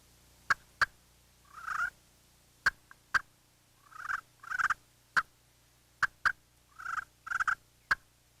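Sharp, sparse clucks from a slate turkey call, mixed with softer rolling purrs imitating feeding turkeys, close and clear with quiet gaps between.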